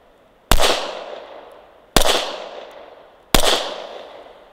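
Three sharp pistol shots from a Glock 19X fired at a target range, evenly spaced about 1.4 seconds apart, each a loud close crack followed by a decaying echo, with no talk.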